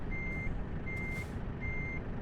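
Three evenly spaced reversing beeps sound from a truck in Euro Truck Simulator 2, each a steady high tone over a constant low engine rumble.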